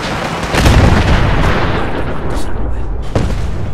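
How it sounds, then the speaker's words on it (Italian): Explosions in the video game Fallout 4, a loud booming burst followed by rumbling blasts and a second sharp crack, heard close with continuous heavy low rumble. "Meno male che le esplosioni non distruggono nulla."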